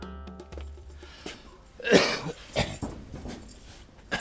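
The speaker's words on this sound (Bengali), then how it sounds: "এত কাশতেছো কেন বাবা?" A man coughs once or twice, one harsh burst standing out against quiet room noise.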